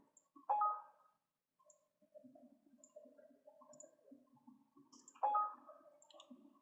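Computer mouse clicks while saving files in CATIA, two distinct sharp clicks several seconds apart, with faint soft ticking between them in a quiet room.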